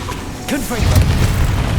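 A Confringo fire spell bursts in Hogwarts Legacy, a booming blast that swells and rumbles for about a second, following a brief whooshing cast.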